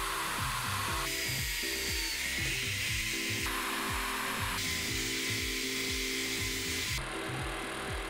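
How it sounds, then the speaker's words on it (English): Column drill boring holes through a board, a continuous loud whine with repeated grinding bites into the wood, the pitch shifting with each hole across the whole stretch. "make holes with a column drill"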